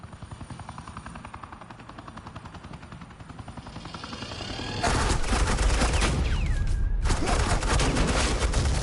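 Suppressing gunfire from the Batman Telltale game, The Enemy Within: rapid machine-gun bursts start in the background, then swell into loud, sustained automatic fire with a helicopter-like roar underneath.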